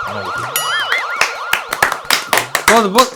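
Ambulance siren wailing in rising and falling sweeps during a political road show, loud and near, mixed with hand clapping and crowd noise.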